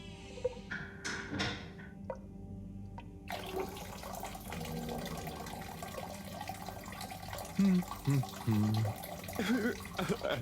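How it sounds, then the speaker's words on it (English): Shower water runs in the Harold Halibut video game, a steady hiss that starts abruptly a few seconds in and continues faintly under a voice, after a few short knocks or clicks. "Sounds like the shower is playing up."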